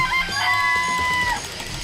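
Chickens at a coop in a video game cluck and crow in short, close, tonal calls that rise and hold briefly, sounding alone over a low background murmur.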